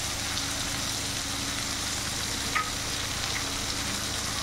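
Ground cumin, chilli powder and spices sauté in a pan for a fish-head and kidney-bean curry, giving a steady, faint sizzle with one brief clink midway.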